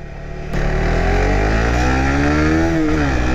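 A 150cc motorcycle engine revs hard after a quiet first half-second, its rising and falling harmonics sweeping steadily upward as it climbs toward high rpm, loud and close with no one talking.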